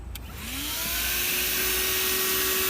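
A HOTOR corded car vacuum cleaner switches on and spins up to a steady high-pitched whine with a rising tone, then runs continuously and loud at close range.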